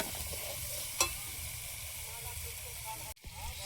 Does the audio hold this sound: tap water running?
no